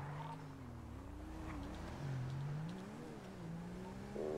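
Dodge Hellcat engine in a video game police patrol, a faint continuous drone that shifts pitch up and down as the car accelerates and eases off, with no talking over it.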